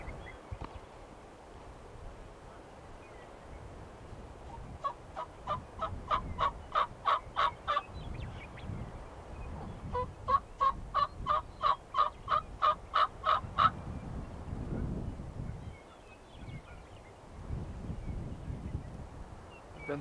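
Wild turkey toms in a Montana river bottom gobble in two clear bursts of rapid, rattling calls at moderate distance, carried over a low wind rumble.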